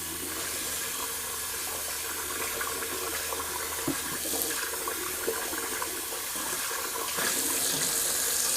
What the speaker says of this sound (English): let me just rinse out my bowl real quick